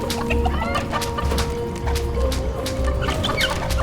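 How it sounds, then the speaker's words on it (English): Chickens in the video game Dungeons 4 cluck repeatedly, a busy run of short clucks and squawks over a low steady game-music bed, fairly close and continuous. "Let's kill these chickens."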